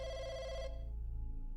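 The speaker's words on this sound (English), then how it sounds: "the phone rings. It's a phone in the public phone market." A public telephone in the video game Firework rings with a bright electronic trill that cuts off after well under a second, leaving a faint low hum; quiet overall.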